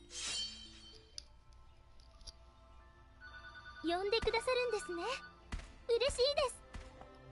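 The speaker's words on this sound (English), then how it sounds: "that phone's ringing" A phone rings in a farming game in two bursts of warbling electronic tones, each lasting about a second, with clinks and short effects between them under quiet background sound.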